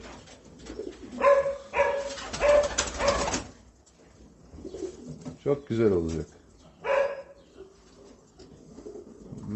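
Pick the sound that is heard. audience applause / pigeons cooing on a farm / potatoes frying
pigeons cooing on a farm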